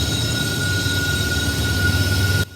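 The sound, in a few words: Norfolk Southern freight trash train passing Horseshoe Curve, Altoona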